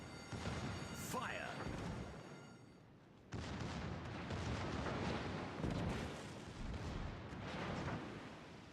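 A tank gun fires in an online video game, heavy booming cannon blasts with rumbling tails amid loud battle noise, with a voice talking over part of it.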